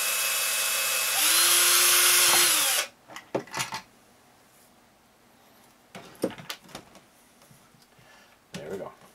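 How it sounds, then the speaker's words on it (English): A power drill whines loudly for about three seconds, then stops, followed by scattered clunks and handling noises. "we're going to drill the hole"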